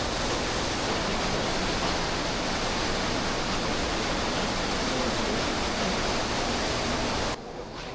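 A waterfall roars in Johnston Canyon, Banff, a loud, steady broadband rush of falling water filling the whole clip with no letup until it cuts away just before the end.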